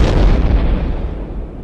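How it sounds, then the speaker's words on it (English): Two cars colliding head-on set off a huge explosion, heard as a loud deep roaring blast that rumbles and slowly fades over under two seconds. "The explosion as they were welded to each other was huge and bright"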